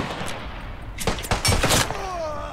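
Gunfire in the WWI shooter Beyond The Wire: a short burst of close, loud rifle shots cracking in quick succession over background battle noise, then a faint ringing tail.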